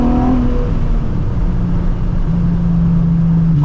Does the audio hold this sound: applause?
no